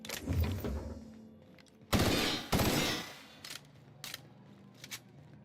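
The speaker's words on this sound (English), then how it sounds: "A burst fire N-ray assault rifle" Short rapid bursts of N-ray assault rifle fire in The Outer Worlds, two loud close bursts followed by fainter scattered shots, with no talk over them.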